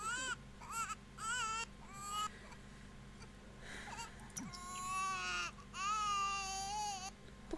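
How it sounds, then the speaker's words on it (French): A baby character cries in a video game set around a greenhouse, sobbing and wailing in repeated bursts over a steady low background hum, with short pauses between cries. "Pourquoi tu pleures encore?"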